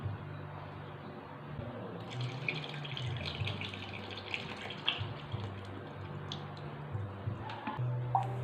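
Water is poured into a clean bucket while mixing homemade dishwashing liquid, a soft steady trickle and splash running throughout at low level, with faint clinks and a low background hum.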